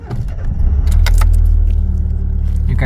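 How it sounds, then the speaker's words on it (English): A Mitsubishi Lancer is started up close: a brief jingle of keys, then the engine catches and settles into a steady, low, loud idle rumble that holds to the end. "you can start the car."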